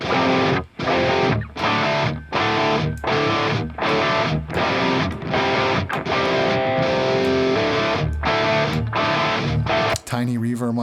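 Electric guitar run through an amp sim plugin, a thick distorted tone played in loud sustained chord bursts separated by short gaps, ending in a brief jumble of different sound.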